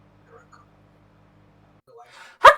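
A single sharp sneeze bursts out after a short breathy intake, loud and close, following a stretch of near-silence with a low steady hum.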